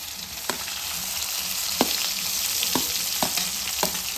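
Chopped onion sizzling steadily in a hot pan with oil alongside cinnamon, a constant loud crackling hiss broken by several sharp scrapes of a spoon stirring.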